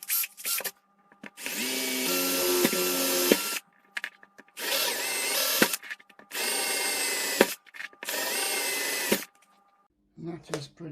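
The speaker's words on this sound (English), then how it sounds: "I'm going to get my drill and drill out all the holes" A power drill boring out holes in a Tamiya King Hauler model truck chassis: several sustained whirring bursts of a few seconds each, separated by short pauses, close and steady, ending with a brief clatter.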